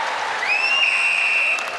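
Spectators at a netball match applaud and cheer as a broad, steady wash of clapping, with a whistle tone sweeping in and sustaining over the crowd noise.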